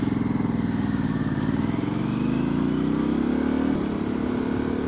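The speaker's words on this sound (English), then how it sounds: "I've also put the Vance & Hines exhaust on here. It changes the entire sound of the bike." A Harley-Davidson Pan America motorcycle engine with a Vance & Hines aftermarket exhaust rumbles deeply up close, idling and then revving up smoothly with a throaty, loud exhaust note, no talking.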